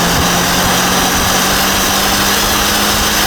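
A Renault Clio's twin-cam petrol engine runs loud and close, holding a steady, dense mechanical drone throughout without any clear rise or fall in revs.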